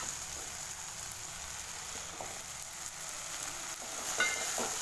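Okra masala sautéing in a pan for a Tamil vendakkai kara kulambu, a soft continuous sizzle with faint stirring scrapes, louder toward the end.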